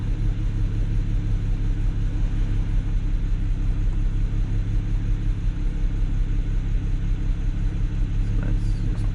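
A BMW N54 335i E92 engine idles with an ignition misfire, giving a steady, loud, close rumble with an uneven, lumpy throb that continues without a break.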